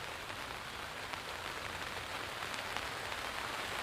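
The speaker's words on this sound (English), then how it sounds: "Starting to really see some rain coming into the frame here." Steady rain pours down in stormy weather over Baltimore as the light fades, a dense, even hiss with scattered patters of drops, constant and fairly close, with no voices.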